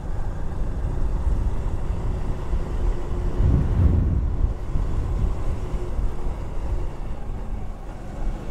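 A truck passes along a narrow village road, its engine rumble swelling as it draws close midway and then fading, heard over steady wind buffeting on the microphone.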